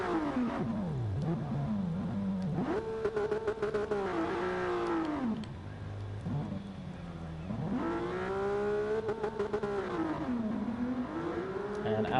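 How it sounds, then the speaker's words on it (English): A Porsche Carrera Cup race car launches away at Goodwood Speedweek, its engine roaring loudly up through the gears, with several rising revs and brief dips at each shift, close and continuous. "Alex launches away in the Porsche Carrera Cup car"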